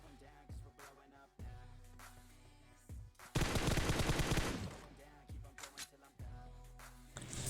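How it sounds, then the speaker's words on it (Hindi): Bursts of automatic gunfire from the BGMI battle royale game, rapid rattling volleys with a loud sustained barrage mid-way, interspersed with shorter shots over a low game soundtrack. "वहाँ से मेरे को गोलियों की आवाज़ आती है।"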